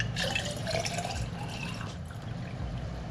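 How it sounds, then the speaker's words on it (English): Tap water runs into a water bottle indoors, a steady splashing stream with a rising fill tone, fairly close and heard alone without talk. "let's fill up my water bottle"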